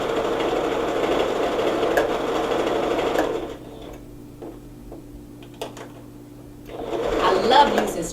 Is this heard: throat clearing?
no